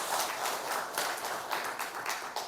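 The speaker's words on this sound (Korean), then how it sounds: "박수 할까요?" A church congregation at a Sunday worship service breaks into applause, a steady wash of many hands clapping at moderate distance with no talk over it.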